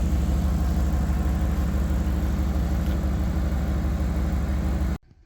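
A 2000 Express van with over 300,000 miles, its engine running at a steady rough idle, loud and close, a constant low drone that cuts off abruptly near the end.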